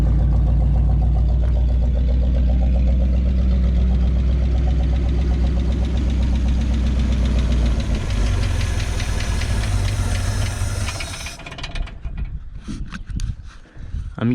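A 1953 Oldsmobile Super 88 barn-find engine idles on the fuel left in its carburetor, a loud, steady knocking rumble that carries on for several seconds before cutting out and leaving faint clatter.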